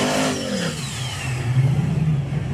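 A no-prep drag racing car accelerates hard down the strip, its engine a loud, sustained roar that climbs and swells toward the end, with no talk over it.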